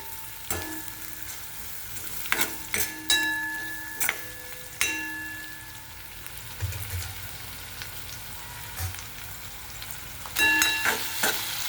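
Onions fry over medium heat in a pan, a steady low sizzle broken by intermittent metallic taps and scrapes of a spoon stirring, close and unhurried.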